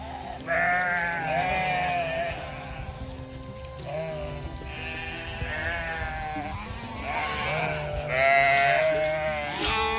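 Sheep bleat repeatedly in overlapping calls, several animals nearby in woods, with a steady outdoor background and no talking.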